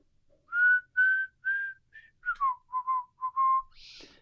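Someone whistles a tune alone, a clear melodic phrase of about ten bright notes, sustained ones first and then quicker shorter ones, ending with a brief breathy hiss.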